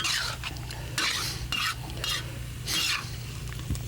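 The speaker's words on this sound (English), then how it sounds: "let that sauce come to a boil, and the cornstarch will thicken it up, and it'll put a glaze on the vegetables" Cornstarch-thickened sauce bubbling and sizzling over vegetables in a pan, with recurring bursts of stirring and scraping over a steady low hum, no voices.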